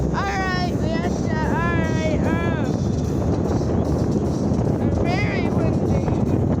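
A boat speeds over the water under strong wind, making a loud, constant rushing roar close to the microphone while a person talks over it now and then.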